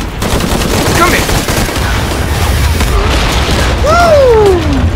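Explosions and gunfire crash through a Shadow of the Tomb Raider action scene on Xbox One X, with dense booms and rattling bursts, loud and close, plus sweeping whistling effects near the end.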